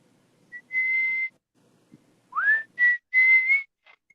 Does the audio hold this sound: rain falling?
no